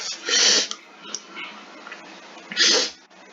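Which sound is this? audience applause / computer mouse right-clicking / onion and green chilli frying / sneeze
sneeze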